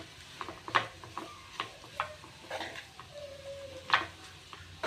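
Spatula scrapes and clatters as chicken and egg noodles are stir-fried and mixed in a pan, irregular close taps and scraping strokes over a faint sizzle.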